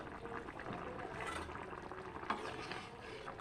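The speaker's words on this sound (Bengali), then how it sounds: "ভালোভাবে ফুটিয়ে নেব ঝোলটাকে" Fish curry with fenugreek and taro stems bubbling in a pot, a faint, steady simmering hiss with soft bubbling and a small knock near the end.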